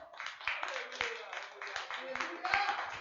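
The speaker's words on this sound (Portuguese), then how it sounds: "Vamos encerrar aplaudindo o Senhor bem forte, vamos?" A church congregation claps at the close of a service in steady, rhythmic beats while a voice keeps talking over the clapping.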